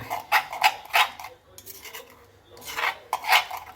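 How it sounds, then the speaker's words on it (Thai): A spoon scrapes around a bowl stirring a Thai shrimp-paste chili dip with ground chili, a few raspy rhythmic strokes close up, pausing briefly between two bursts. "คนให้เข้ากันเนาะพี่น้อง"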